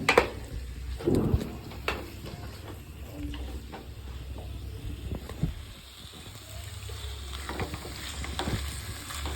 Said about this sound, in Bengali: হালকা আঁচে একে ভেজে নিতে হবে